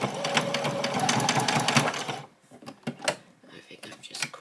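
A sewing machine stitching fabric for a toy bunny, running in a fast, close, rapid whir for about two seconds, then stopping into a few light clicks and handling sounds.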